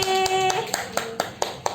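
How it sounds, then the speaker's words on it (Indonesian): A class claps in an even rhythm, seven or eight sharp claps, close by, with a brief voice at the start. "Tepuk tangan sekali lagi"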